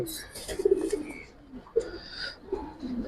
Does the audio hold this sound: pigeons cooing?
yes